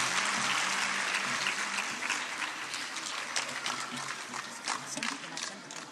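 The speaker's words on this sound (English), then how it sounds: "Please louder claps for Ejaz sir now." Sustained applause from an audience at a state-level Aloha competition in Jammu and Kashmir, dense and steady for several seconds with some voices mixed in beneath the clapping.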